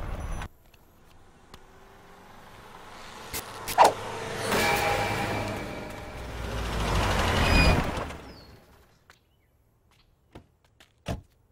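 A car drives past in a Telugu film scene, its engine rumble swelling twice to loud peaks near the middle before fading, followed by a few sharp knocks and a near-silent tail.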